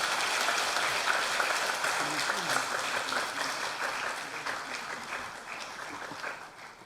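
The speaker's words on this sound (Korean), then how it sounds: "우리 큰 격려 박수 한번 주시면 감사하겠습니다" A church congregation at a Sunday worship service claps in encouragement for certificate recipients, moderate and fairly distant applause that gradually thins, with faint voices mixed in underneath.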